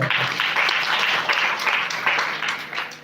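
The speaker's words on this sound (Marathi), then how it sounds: "एकासाठी जोरात टाळी वाजवा" An audience at a kirtan breaks into loud, dense applause, many hands clapping together in a sustained roar that tapers off slightly toward the end.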